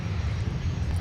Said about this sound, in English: let's take another look at Delta 941 coming in from Seattle